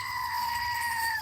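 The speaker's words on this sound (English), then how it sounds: "Screaming goat." A screaming goat novelty toy lets out one sustained, loud, nasal bleat-like scream with bright steady harmonics, lasting just over a second and heard alone.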